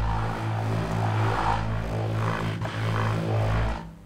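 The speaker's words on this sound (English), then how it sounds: "let's try distorting this helicopter layer, which I think might sound good." Distorted helicopter sample layer in a foley sampling session, a continuous droning engine tone with rhythmic pulsing rotor chops, loud and steady before fading at the end.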